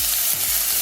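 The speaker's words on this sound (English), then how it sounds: "Spread the oil around and then quickly add your sliced onion." Sliced onion frying in avocado oil and being stirred in a pan, a steady loud sizzle with stirring scrapes throughout, no voices.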